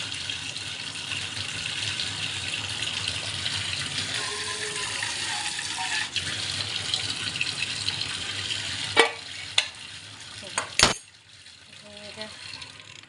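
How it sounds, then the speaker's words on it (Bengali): Water from a kitchen tap runs into a sink in a steady, close rush for several seconds, then stops and a few sharp clatters follow. "কলটা খুলে দিতে হবে, কারণ খুব গরম তো। জলটা সিঙ্কের ওইদিকে যাবে যেহেতু।"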